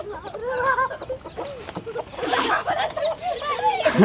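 A desi chicken rooster clucking in short, repeated, nasal bursts close by, with a person's voice talking in between the calls.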